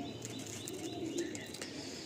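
Andhra pigeons in a Kolkata loft give soft low coos with light chirps and a brief flutter of wings, faint and close together, and nobody speaks.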